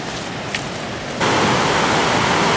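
Surf breaking at Hamaoka beach in Japan gives a soft broadband wash that swells suddenly halfway through into a louder, steady roar of waves. No voices are heard.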